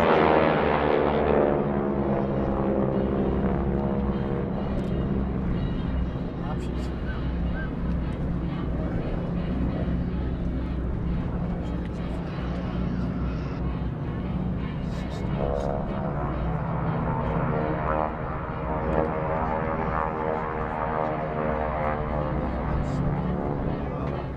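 GEICO Skytypers vintage World War II-era aircraft fly a bomb burst maneuver at an air show, a loud sustained propeller drone that rises and falls as the planes pass, with a spoken announcement over it.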